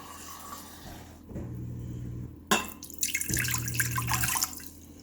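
Water poured into an Instant Pot in a home kitchen: a faint splash and trickle under a low hum, a sharp clunk, then a louder rushing pour, with drips between.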